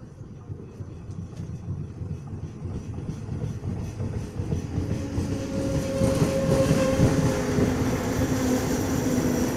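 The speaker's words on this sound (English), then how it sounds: "Arriving now is the train that I'm catching to Lisbon." A train arriving at a station near Lisbon rumbles in with a steady clatter that grows gradually louder, then a rising high-pitched squeal of brakes sets in as it slows.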